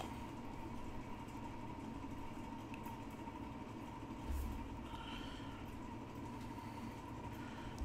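A field of 410 cubic inch, 900 horsepower World of Outlaws sprint cars rumbles at a racetrack, a low steady engine drone heard from a distance, fairly faint with one brief thump partway through.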